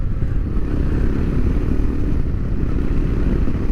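A Royal Enfield Himalayan 462cc motorcycle engine drones steadily while riding, a loud, dense, unbroken roar mixed with wind rush and no voice over it.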